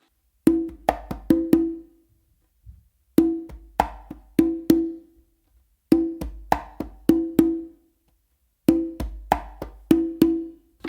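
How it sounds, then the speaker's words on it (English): Conga groove strokes in short repeating groups, a muted finger tone followed by two ringing open tones and quick hand hits, four clusters separated by pauses, close and dry with no voice. "you're gonna do a finger and then do two opens with your dominant hand"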